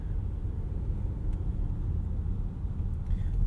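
Cabin of a 2018 Volvo XC60 T8 plug-in hybrid on the move, a steady low road rumble and tire drone filling the space with no talk.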